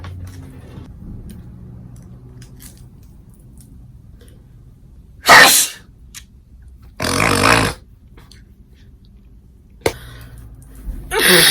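Several loud, sharp, broadband sneezes burst out close up: one at about five seconds, a longer one near seven, and another starting at the end, with quiet room noise between them and no talking.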